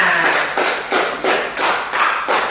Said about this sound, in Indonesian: tepuk tangan dulu untuk kelompok diameter